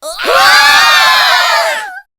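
A short burst of children shrieking and screaming together, loud and close, lasting about two seconds before cutting off sharply.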